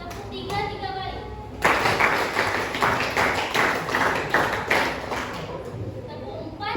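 A high school class claps together in a rhythmic counted pattern, a quick run of crisp group claps repeating for a few seconds between stretches of speech.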